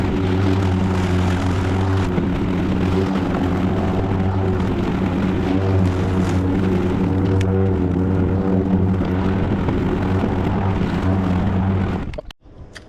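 A non-self-propelled EGO battery-powered push lawn mower cutting short grass, giving a steady close motor hum with a whirring blade that runs evenly and then cuts off abruptly at the end.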